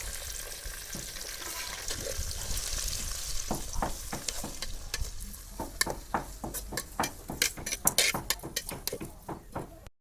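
Tomatoes frying in a pan for fish curry: a soft sizzle under repeated scraping, clicking stirs from a spoon, growing quicker and more frequent toward the end.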